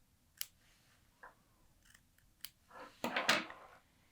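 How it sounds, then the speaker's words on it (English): Scissors snip through fabric to cut open a welt pocket for a Tamarack garment, a few quiet close clicks followed by a louder run of crisp cuts near the end. "And then I'm going to cut the pocket the same"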